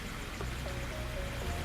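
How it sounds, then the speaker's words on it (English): A faint, steady trickle of a couple of thin water streams running down, soft and continuous, with no voices. "now it's just like a couple little strings of water, running down, streaking down"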